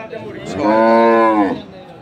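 A dairy cow with her calf lets out one loud, long, close moo at a busy rural cattle market in Thakurgaon, with faint murmurs of people around.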